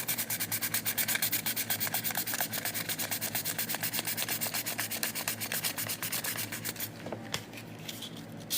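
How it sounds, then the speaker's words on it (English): Sandpaper rubs rapidly along the edges of a hot air balloon ornament, a dense rhythmic scratching of quick back-and-forth strokes, loud and close, thinning out briefly near the end before resuming. "If you're smart too, you can always just fold your sandpaper around here."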